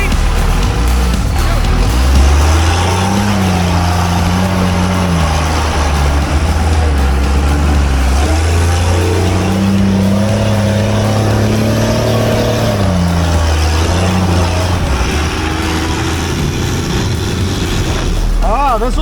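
A large truck with a 5.9 Cummins diesel engine drives with a loud, constant engine drone whose pitch rises and falls as the throttle changes, while voices talk over it.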